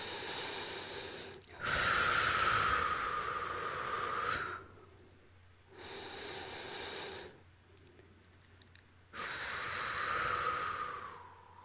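Two slow, deep breaths in a calm guided relaxation exercise, each a long airy inhale followed by a softer exhale, close and quiet with pauses between, no speech.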